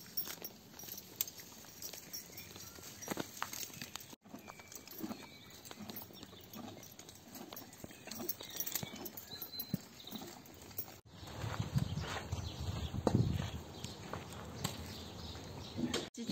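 A horse being ridden clip-clops steadily, its hooves striking in an even walking rhythm close by, with faint outdoor background.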